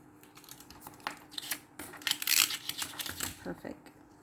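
Paper being cut to make a vintage-style ticket ephemera piece: a series of crisp, close snipping and rustling strokes in an irregular rhythm, louder in the middle, with faint room noise.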